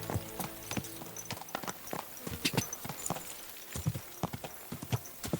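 Horse hooves clop in an uneven walking rhythm on a hard surface in Kingdom Come: Deliverance, close and fairly quiet.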